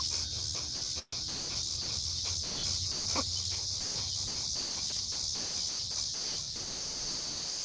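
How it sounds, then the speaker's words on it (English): Breath of fire, quick forceful breathing in and out through the nose, comes as a fast, even train of soft puffs over a faint steady hiss, fairly quiet and continuous. "we're going to have you breathe in and out through your nose rather vigorously"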